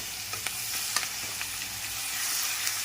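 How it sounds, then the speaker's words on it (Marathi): Green chili paste (thecha) sizzles in hot oil and ghee for sabudana khichdi, a steady close frying hiss broken by a few soft stirring clinks and scrapes, with no talking. "चला तर तेलामध्ये मिरचीचा ठेचा घातला आहे"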